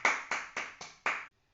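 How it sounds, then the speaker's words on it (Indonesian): A classroom group claps five times in a quick, even rhythm, each sharp and fairly close, followed by near silence. "Silahkan tepuk tangan untuk kita semua."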